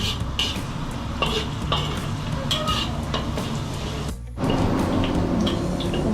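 Minced garlic sizzles steadily in hot oil, with occasional scraping and tapping of a spatula against the pan and a brief pause near the end.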